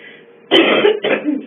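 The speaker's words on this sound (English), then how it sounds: "I had a cough." A loud, close cough bursts out, followed by a second shorter cough, with a brief pause between them.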